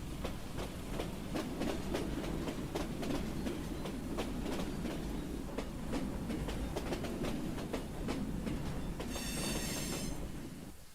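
Train rumble with rhythmic clickety-clack and wheel squeal in a video game, a steady loud rolling passage lasting about ten seconds with a brief high hiss near the end.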